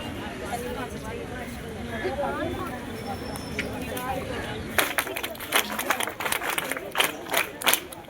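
Crowd murmur gives way to a burst of scattered hand claps at a World Organ Donation Day awareness event at a pharmacy college, uneven and fairly close, with voices still chattering underneath.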